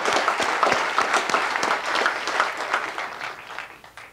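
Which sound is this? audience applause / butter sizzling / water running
audience applause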